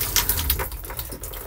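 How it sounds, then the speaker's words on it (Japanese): Water sprays from the shower head inside a Jayco Jay Flight SLX 174BHW travel trailer, a close, steady hiss with splashy fluctuations and no voices. "水が出ます。"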